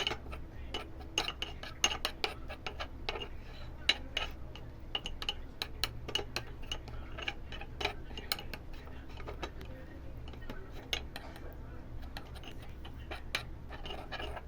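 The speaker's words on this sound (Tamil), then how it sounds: "இப்போ இந்த விட்டாமின் இ கேப்சூலோடு சேர்த்து நல்லா இந்த அலோவேரா ஜெல்லு, ரோஸ் பவுட்ரு, எலுமிச்சப்பழச்சாறு நல்லா மிக்ஸ் பண்ணிக்குவோம்" A spoon stirs a face pack of aloe vera gel, rose powder, lemon juice and vitamin E oil in a small bowl, giving rapid, steady clinks and scrapes that continue throughout.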